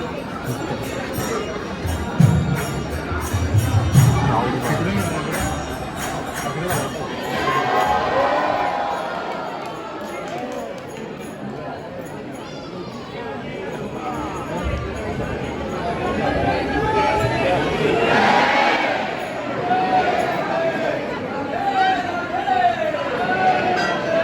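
Crowd in a large park at night, a dense babble of many voices with shouts and cheers swelling and fading over nearly half a minute, people talking close by throughout.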